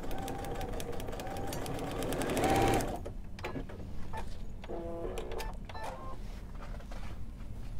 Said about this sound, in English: I'm going to stitch a little bit before and a little bit after